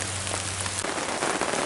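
Light, steady rain patters on surfaces around a camper during tornado-siren weather, a dense continuous hiss that thickens slightly partway through, close and fairly loud with no talking.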